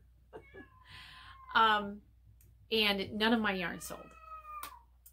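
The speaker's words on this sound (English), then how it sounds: "and that's a cat." An angry cat meows several times, drawn-out yowling cries close by, interleaved with someone talking.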